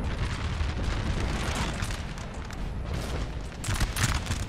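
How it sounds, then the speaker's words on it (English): Napoleonic-era artillery booms and rumbles across a Napoleon: Total War battlefield, a dense wash of distant cannon fire and blasts layered over continuous battle noise, with sharper bursts near the end. "This artillery over here is actually evening the odds here."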